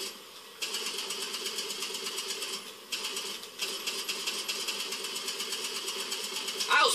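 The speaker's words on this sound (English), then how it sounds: "How you like this 50 caliber in your face?" A .50 caliber machine gun fires in the video game Far Cry 3, a dense, rapid stream of shots running almost unbroken for about seven seconds with brief dips, loud and close.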